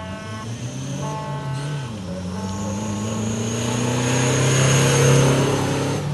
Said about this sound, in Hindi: ये फ्लैग ऑफ और गाड़ी अपनी मंजिल की जानिब रवाना हुई।